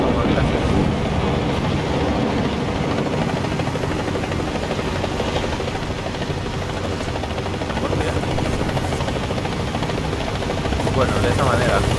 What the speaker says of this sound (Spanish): el helicóptero está encima mío.